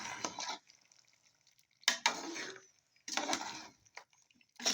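Two kilograms of chicken for a layered chicken and potato biryani cooks in a pot, with bursts of loud sizzling and stirring that stop and start, separated by quiet gaps.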